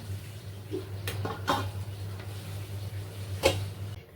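A lid goes onto a pan of pointed gourds stuffed with mutton keema, giving a few short clanks and taps against a steady low kitchen hum.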